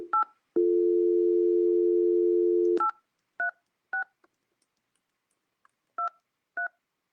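Telephone keypad dialing on a landline: a steady dial tone for about two seconds, then a string of short, separate DTMF beeps spaced irregularly, clear and alone with no talk.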